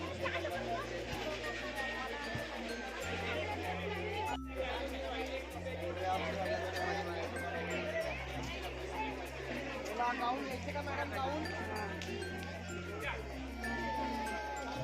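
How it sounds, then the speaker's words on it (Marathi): Dense crowd chatter inside Pune's busy Tulshi Baug market in the evening, many voices blending into a steady hubbub with occasional clinks, heard beneath loud droning music. "तुळशी बागेत पण किती गर्दी आहे"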